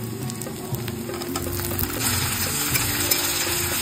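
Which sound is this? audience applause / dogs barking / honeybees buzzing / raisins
raisins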